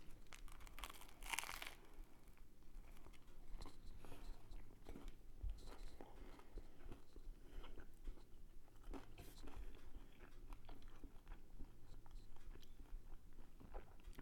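A crisp, crunchy bite into a sandwich with a crunchy top close to the microphone, then quiet chewing and faint crinkling, with no talking.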